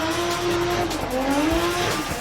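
A drift car at Formula Drift Japan qualifying in Okayama slides through a corner, its engine holding a strained high drone while tires squeal steadily, loud and near, with no voices.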